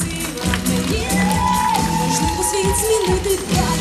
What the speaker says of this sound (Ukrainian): ваші оплески Ірині.